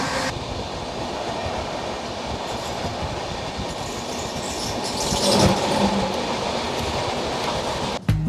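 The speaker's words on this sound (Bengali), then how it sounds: "আসানসোলে আমাদের ট্রেন ঢুকে পড়েছে" A Humsafar Express train rolls into Asansol railway station, a loud, continuous rumble of wheels and carriages with rhythmic clatter that swells midway and ends in a sharp jolt.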